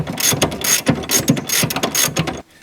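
Ratchet loosening the top nuts of a car's strut, a series of quick clicking ratchet strokes in close rhythm, loud and near, stopping abruptly at the end.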